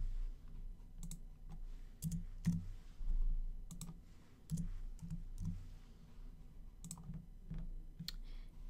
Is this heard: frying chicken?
no